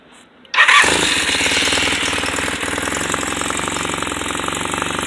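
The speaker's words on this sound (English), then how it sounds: "Rebuilt the carbs. Let's see if she fires up." A 1986 Honda Nighthawk 450 motorcycle with freshly rebuilt carburetors cranks and catches abruptly, then settles into a loud, steady, close-up idle with a fast, even, throbbing beat.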